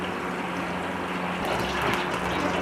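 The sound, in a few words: pouring cooking oil into a pot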